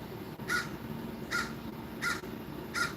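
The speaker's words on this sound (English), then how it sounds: "That's the crow right there talking." A crow caws outside in four evenly spaced calls, moderately near and clear over a steady background hiss, with no talking.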